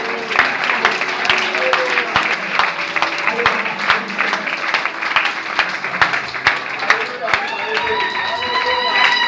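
A church congregation claps and cheers together in a continuous mass of applause. Rhythmic claps and raised voices fill the hall, with a voice over a microphone carrying above the crowd.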